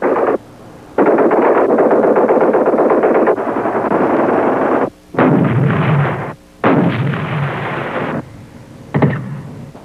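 Artillery and machine gun fire from a 1976 armored combined-arms battle, heard as loud, sustained volleys of rapid gunfire in several long bursts separated by brief gaps, with no voices.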